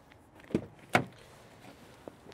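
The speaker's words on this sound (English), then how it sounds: "Sliding door shut." A 2021 Mercedes-Benz Vito crew van's sliding door shutting outdoors in the cold: two solid thuds about half a second apart, then a faint click, in a quiet setting.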